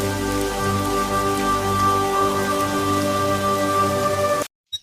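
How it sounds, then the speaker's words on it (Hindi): Steady rain falls and patters on a surface, a dense continuous wash with a low hum beneath, cutting off abruptly near the end. "बारिश की बूंदें उनके चेहरों पर गिर रही थी"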